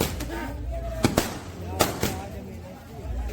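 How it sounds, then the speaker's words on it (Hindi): Firecrackers pop at a wedding celebration: a few sharp cracks are scattered over a few seconds, sitting under a continuous hubbub of voices and background noise. "यहाँ पटाखे वगैरह छूट रहे थे"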